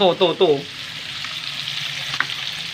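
Food fries in a pan with a steady close sizzle, opened by a brief tonal sound and broken later by a single sharp clink.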